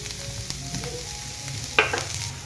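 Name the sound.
onion frying in oil in a pan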